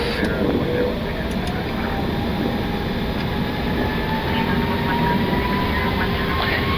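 Inside the cockpit of a Fiji Airways Airbus A330, the engines roar at takeoff thrust as a steady, loud, broad rumble with a faint rising whine.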